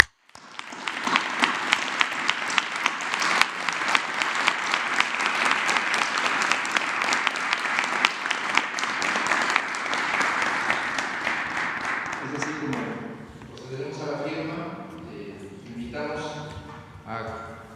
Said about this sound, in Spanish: yo propondría un aplauso por este entendimiento